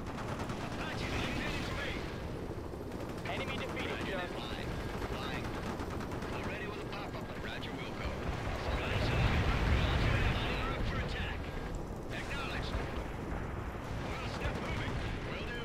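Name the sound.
anti-air gun firing, from video game World in Conflict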